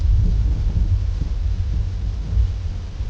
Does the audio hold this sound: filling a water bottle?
no